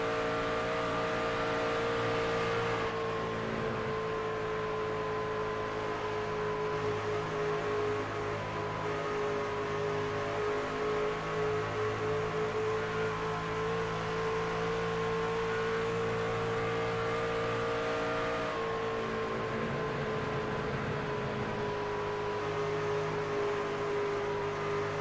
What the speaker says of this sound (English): Listen to that race truck sing, and listen to how much they're going to have to lift going into the corner.